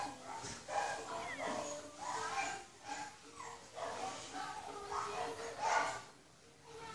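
Whimpering, yipping dog sounds from a Minecraft game, repeated softly across the stretch with no talking.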